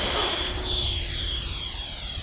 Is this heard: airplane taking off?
yes